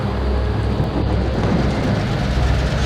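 A heavy thunderstorm with rain gives a loud, dense, continuous roar of downpour and deep rumbling thunder, steady and close with no pauses.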